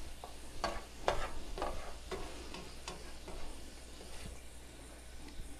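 Black-eyed peas with salt are stirred in a pot, making faint, soft scraping and rustling strokes in a loose rhythm over a low hiss, quieter toward the end.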